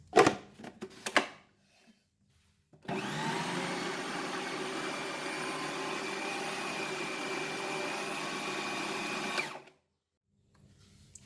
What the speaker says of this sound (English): this is the tapioca that we have put it in the food processor